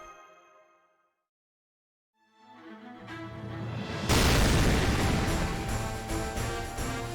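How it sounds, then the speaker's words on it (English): A loud explosion in the video game Fate/Grand Order bursts in after a brief silence, building from a rumble into a sustained, roaring blast that fills the rest of the clip. "Kaboom! It's always so loud."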